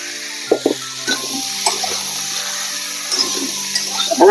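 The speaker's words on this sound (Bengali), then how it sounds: "লাউটা একটু ভালো করে কষাই নেবো।" Bottle gourd sautés in a pan with turmeric and salt, a soft sizzle with intermittent scraping and stirring clanks of a spoon against the vessel, close and moderate in level.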